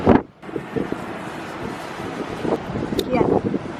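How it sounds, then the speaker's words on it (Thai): Strong wind gusts across a high rooftop as a storm approaches, buffeting the microphone with a steady, rumbling roar that swells and eases, while voices murmur faintly underneath. "ตอนนี้คือแบบเหมือนพายุจะเข้าแล้วก็ลมแรงมาก"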